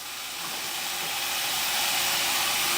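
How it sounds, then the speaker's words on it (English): Garlic hits a hot pan of sautéed tomatoes and sizzles in a steady, even hiss that swells slightly in loudness and keeps on without a break, with no voices over it. "now that tomatoes are sauteed for a few moments, I can go ahead and throw my garlic right down in on top of that"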